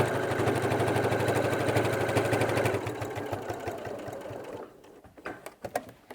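A sewing machine top-stitches fabric for a tool belt, whirring fast and steadily, then slowing into a looser run of separate stitches and clicks before stopping.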